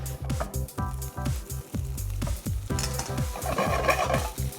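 Steady scraping and rattling of ingredients being dry-roasted and tossed in a hot wok, rhythmic and continuous with a light crackle.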